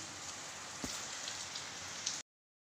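Steady rain falling on a rainy day: a dense, even hiss of drops on surfaces, heard alone and close, before the sound cuts off abruptly near the end.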